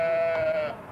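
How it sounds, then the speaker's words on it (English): Sheep bleating outside a Hotel Ibis in Lausanne, one sustained nasal bleat that holds steady before breaking off, fairly close, with faint outdoor background and no talk. "these are the sheep outside our outside of our Hotel Ibis"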